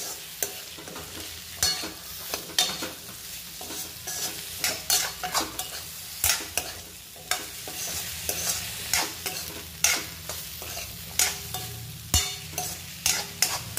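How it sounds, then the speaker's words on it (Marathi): Mixed vegetables being sautéed and stirred in spices in a pan, with a constant sizzle beneath frequent close, sharp scrapes and clacks of the spoon against the pan in a loose, uneven rhythm. "तर इथे सगळ्या भाज्या मी परतून घेते मसाल्यांमध्ये या पद्धतीने"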